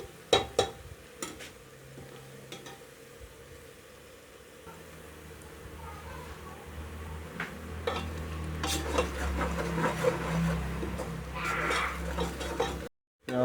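Onions stirring and frying in a pot for Delhi-style degi mutton biryani, with scraping clinks of a metal spoon against the vessel over a steady low sizzle that swells toward the end, close and fairly quiet.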